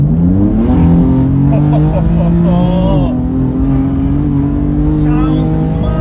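A 500 BHP stage 1 BMW M4 accelerating hard, its engine note climbing steadily through the revs with a brief dip at a gear change, loud and close from inside the car, with voices partly over it.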